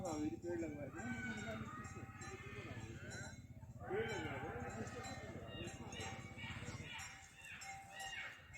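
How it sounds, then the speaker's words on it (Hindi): A chorus of jackals howling from several directions around a forest village, wavering overlapping cries that rise and fall, while a person talks quietly over them. "ये जैकल का आवाज है चारों तरफ से"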